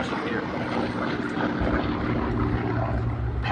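An F4U Corsair propeller fighter performs an airshow demonstration at Dayton, its engine a steady, loud, rumbling drone with a low throbbing tone that holds through the whole stretch, with faint voices in the mix.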